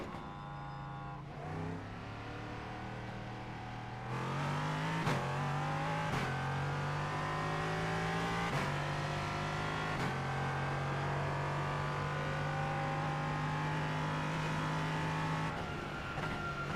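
An LMP3 prototype race car in a racing video game drones steadily and loudly, with several sharp gear shifts stepping the engine pitch up and down as it pulls through the revs.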